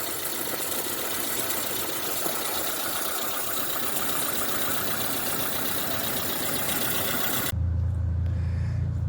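A Suzuki Samurai engine with a regenerated Aisan carburetor idles steadily and close by, a continuous mechanical rumble with a rapid ticking rhythm; near the end the sound shifts to a deeper, heavier low drone.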